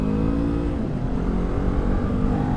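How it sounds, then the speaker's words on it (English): A Kawasaki Ninja 400 or Yamaha R3 sport bike with a slip-on exhaust drones steadily while riding, a continuous mid-pitched engine note with throttle changes, loud and close with wind rumble, no talk. "I can definitely hear the exhaust more on this bike because of the slip-on"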